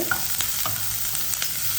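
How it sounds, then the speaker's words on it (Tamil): Shallots sizzle and fry in a pan while a utensil scrapes and stirs in short, irregular strokes, close and steady. "இதில் ஒரு கிண்ணம் சின்ன வெங்காயம் இதை நல்லா வதக்கிக்கோங்க"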